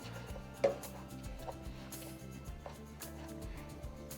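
A flat-bottomed steel tumbler pressed and rubbed repeatedly into a sago flour mixture; soft, quiet, irregular scraping and thudding strokes close by, with one sharper knock early on and no voices.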